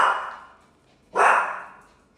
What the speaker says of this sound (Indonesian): Kan jadi anjing-anjing aku ini gonggongin dia gitu.